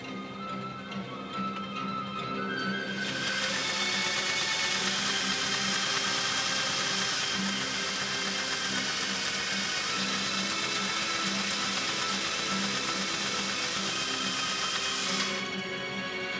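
A 1957 Singer 401A sewing machine runs at speed, a loud, continuous close-up mechanical whir that starts abruptly after a quieter moment and holds steady before cutting off near the end.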